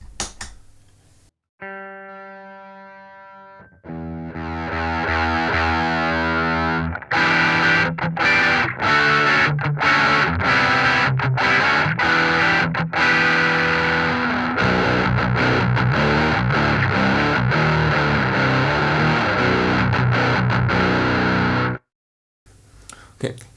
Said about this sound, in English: You have at the same time a clean sound and a distorted sound